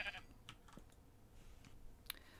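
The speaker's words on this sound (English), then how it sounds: "Hello, sheepy. You can't come in." A Minecraft sheep gives faint, short bleats, with soft keyboard and mouse clicks in the background during quiet gameplay.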